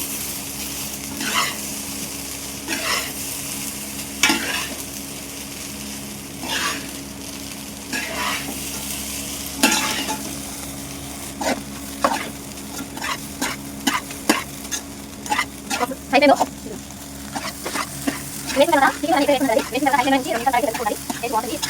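Chicken pieces stir-fried over a high flame for chicken fried rice: loud, steady sizzling with repeated rhythmic spatula scrapes that grow quicker and busier toward the end, where a voice seems to come in.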